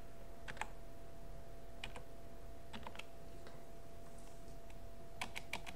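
Typing on a computer keyboard while drafting in AutoCAD: sparse, faint clicks come in short bursts, with a few isolated keystrokes and a cluster near the end, over a steady quiet electrical hum.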